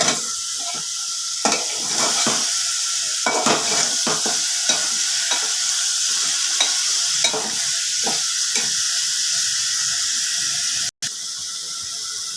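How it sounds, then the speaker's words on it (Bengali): Chicken pieces hit a hot pot seasoned with turmeric and sizzle loudly. The steady frying hiss comes with repeated scraping and stirring strokes across the pot, close and without speech. "এবারে আমি চিকেনগুলো দিয়ে দিলাম।"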